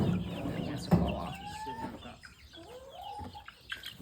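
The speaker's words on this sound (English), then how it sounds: "Chicken." Chickens clucking in a farm coop during evening chores, a few close, uneven clucks and short rising calls scattered over a quiet background.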